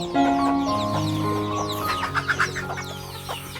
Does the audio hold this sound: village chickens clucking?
yes